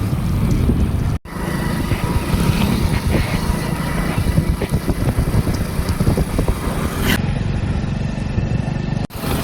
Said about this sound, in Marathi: त्या गाडी चालवून बसला आणि मी पाठीमागं बसलो होता.